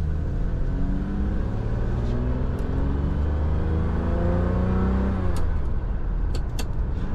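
A Ferrari V12 car engine rumbles loudly and steadily up close, its pitch rising and falling as it revs, with a few faint high clicks near the end.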